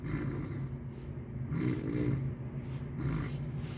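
A person imitates snoring while sitting slumped on a couch, giving about three drawn-out, raspy, nasal snore sounds in a slow rhythm, near and fairly loud.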